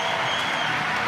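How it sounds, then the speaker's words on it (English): Crowd at the Adidas Rockstars 2015 climbing competition cheering and applauding, a dense, moderately loud wash of noise throughout. "All right, the crowd love it."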